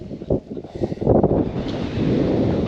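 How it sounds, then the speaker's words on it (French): Wind buffets the camera microphone in an open field, heavy rumbling gusts that swell and stay strong, with no voices. "Bon déjà le vent. Ça va être bien pour la caméra ça."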